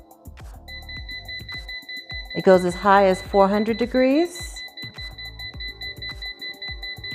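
A steady high electronic tone runs under a person talking, as from a 6-quart air fryer control panel beeping nearby.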